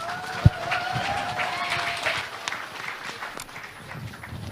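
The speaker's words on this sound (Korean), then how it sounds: "여러분 큰 박수로 맞아주시기 바랍니다" An audience at a party convention leadership candidate debate claps to welcome a candidate, a moderate, diffuse patter of applause in a large hall with one sharp knock near the start, fading slightly toward the end.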